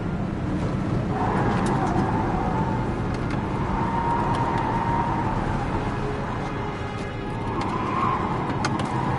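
Car driving in the video game Heavy Rain, a steady engine rumble with road noise throughout, rising in a few smooth swells, with faint higher squeals and no speech.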